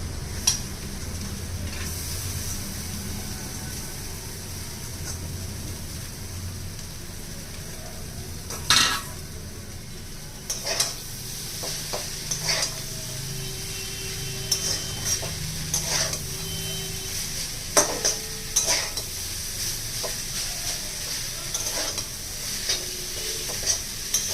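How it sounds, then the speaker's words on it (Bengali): Chowmein noodles and vegetables stir-fry in a pan under a low sizzle, punctuated by irregular sharp clacks and scrapes of a utensil against the metal, with no voices. "সবজি দিয়ে এটাকে মোটামুটি হালকা ফ্রাই করে নিয়েছি। হালকা ফ্রাই করে নিয়েছি। এবার এর মধ্যে আমি চাউমিনটা দিয়ে দিচ্ছি।"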